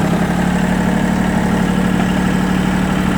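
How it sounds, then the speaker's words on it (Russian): An Iseki TA317 mini tractor's diesel engine idles steadily just after a cold start on a frosty March day, a close, even low rumbling chug that holds for the whole stretch. "Но движка работает ровно, тарахтит себе."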